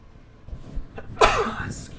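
A single sharp sneeze bursts out after a quick inhaled breath, close and fairly loud.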